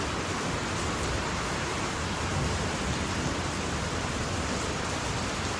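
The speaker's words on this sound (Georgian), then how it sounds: "წვიმა მოდის." Steady rain falls continuously with an even, broadband hiss and no pauses or voices.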